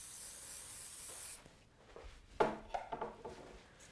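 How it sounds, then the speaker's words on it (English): Hairspray hisses onto hair in one steady burst of about a second and a half while an elegant wedding updo is styled with hot rollers, followed by soft rustling and handling noises. "So I'm going to spray a little bit."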